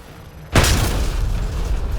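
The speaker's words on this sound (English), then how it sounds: "The heroes never stop to look at an explosion." Explosion in the sci-fi action game Mass Effect Andromeda, a sudden loud blast after a quiet moment, followed by a sustained rumbling roar that fades only slightly.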